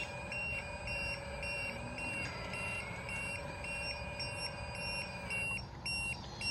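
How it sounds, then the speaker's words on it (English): Electronic low-voltage battery alarm on a 4200XL RC excavator beeps in a steady repeating pattern of high tones over a quiet low background hum, then changes pitch near the end. "Let me disable my alarm here."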